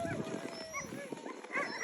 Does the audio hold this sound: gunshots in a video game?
no